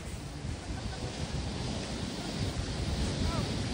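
A continuous rushing wash of ocean surf at Lambai Island with wind buffeting the microphone, fairly faint and steady throughout.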